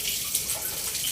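Fresh water runs continuously into a catfish breeding pond at a farm, acting as an aerator: a steady, even hiss of flowing, splashing water close by, with no voices.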